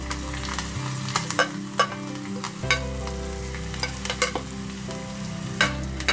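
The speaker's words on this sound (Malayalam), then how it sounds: "ഇനി ഇത് നന്നായിട്ട് നമുക്കൊന്ന് വറുത്തെടുക്കാം" Ginger, green chillies and curry leaves frying in oil over a low flame in a pan, a steady close sizzle broken by repeated light scrapes and taps of a stirring spoon.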